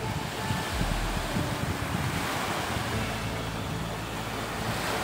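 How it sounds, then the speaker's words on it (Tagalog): Ocean surf at a beach in Ternate, Cavite rolls and crashes steadily, a broad continuous wash of water with some wind rumble, no voices. "lumakas-lakas na yung alon"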